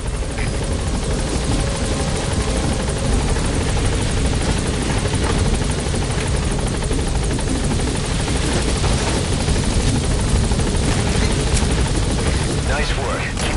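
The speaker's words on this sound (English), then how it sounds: "All right, the chopper's touching down." A helicopter in Metal Gear Solid V touches down with a loud, steady rotor roar that fills the whole stretch.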